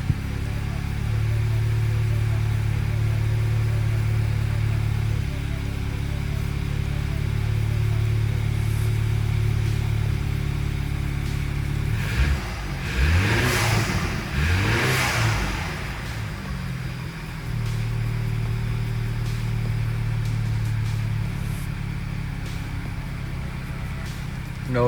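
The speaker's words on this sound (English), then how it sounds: "No rough idle, no misfires. We're good." A BMW N20/N26 four-cylinder engine idles steadily after an ignition kit install, a smooth even hum with a brief swell of revving midway before settling back to a stable idle.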